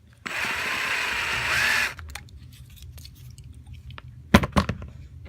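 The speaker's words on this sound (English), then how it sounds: "you can see good chips coming off the drill bit." A drill bit bores into the metal post of a Hot Wheels die-cast car, giving a steady high whir for about two seconds that then stops, followed by faint clicks and a few sharp handling knocks near the end.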